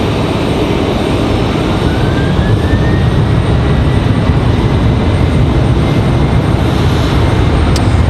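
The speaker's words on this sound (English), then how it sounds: "Looks like we got another 737-9 for Delta out here on the runway, ready to go." A Delta Boeing 737-9 jet waits on the runway at Raleigh-Durham airport, its engines giving a steady, loud, broadband roar that holds unbroken throughout with no talk over it.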